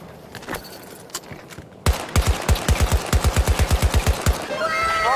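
Suppressed short-barrel rifle in a close-quarters military video game, fired in a rapid burst of around fifteen evenly spaced, punchy shots after a quieter stretch, with faint game ambience around them.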